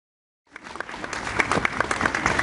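Applause for students at a school class ceremony starts after a brief silence and continues as steady, dense clapping from a small group.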